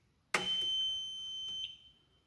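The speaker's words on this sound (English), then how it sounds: "little beepy beep" An EZGO Navitas golf cart's AC motor controller powering up gives a sudden click followed by a single steady electronic beep that holds for over a second, then stops, close and clear in a quiet space.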